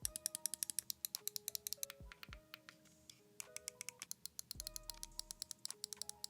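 Sharp, close clicks from a HyperX Pulsefire Haste lightweight gaming mouse, tapped in quick irregular bursts of crisp button presses with no talking.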